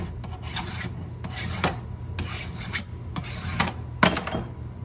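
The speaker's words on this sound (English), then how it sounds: "you just run it down the length of it" A metal file is drawn along the length of a chainsaw guide bar resting on a bench, taking off the burr: a series of rough, raspy strokes in a steady rhythm, close up, with no talking.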